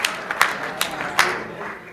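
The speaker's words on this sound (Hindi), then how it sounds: "जोरदार तालियां बजाकर उन्हें आमंत्रित" An audience at a comedy poetry gathering applauds to welcome a poet, with a soft spread of clapping and a few sharper claps standing out over a short stretch.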